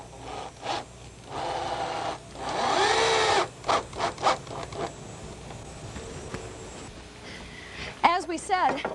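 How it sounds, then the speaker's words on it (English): IPE hardwood deck boards being knocked together during installation with hidden composite fasteners, a series of sharp wooden bangs and knocks in irregular bursts, with a voice talking between them. "I'm going to bang this stuff together"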